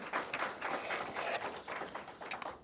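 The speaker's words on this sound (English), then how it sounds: "Let's give another round of applause for Ms." An audience at a county event applauds a speaker, giving a steady, dense patter of many hands clapping together. The applause sounds fairly faint and distant and carries on throughout.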